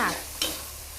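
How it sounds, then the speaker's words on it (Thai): King oyster mushrooms with oyster sauce, egg and spring onion sizzle in a hot pan as they are stir-fried, with a scraping stir partway through and a steady hiss continuing underneath. "ผัดแห้งๆเลยค่ะ"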